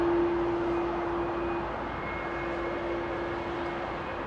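A Boeing 777 airliner departs Heathrow runway 27R, its engines a distant, steady broadband roar with a faint sustained whine, heard alone without talk.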